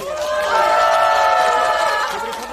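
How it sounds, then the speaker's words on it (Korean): A crowd at an outdoor election campaign rally in Dongjak, Seoul, cheers and shouts loudly and steadily for a couple of seconds, with voices overlapping in a sustained roar before it fades slightly. "다시 한번 박수 부탁드립니다."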